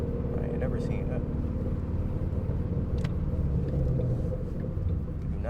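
A Ford Mustang drives along with a steady low engine rumble and road noise filling the cabin, heard from inside; someone talks briefly over the drone.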